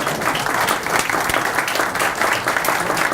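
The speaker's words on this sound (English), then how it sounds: "give our speaker a nice round of applause" Kiwanis club audience standing and applauding a Michigan National Guard colonel speaker, a loud, continuous wash of many hands clapping, close and dense throughout.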